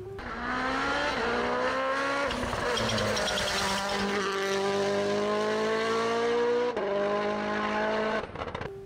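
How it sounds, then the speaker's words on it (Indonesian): A Rally1 rally car engine revs loud and close, its sustained, rising and falling tone holding for several seconds with a sharp drop in pitch near the end. "mobil-mobil tersebut masih memberikan suara fantastis yang telah dicintai oleh para penggemar"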